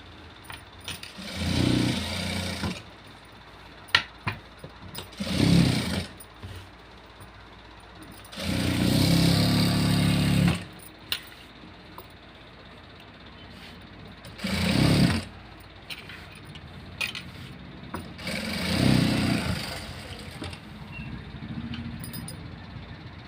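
A sewing machine stitches along piping on an embroidered blouse in a tailoring shop, running in about five short bursts of a few seconds each with quiet pauses between them, close and moderately loud.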